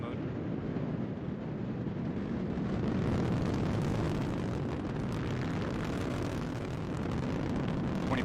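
A Delta IV Heavy rocket roars during launch with all three boosters firing, a dense, broad, continuous rumble that stays loud and unbroken throughout, heard from a distance.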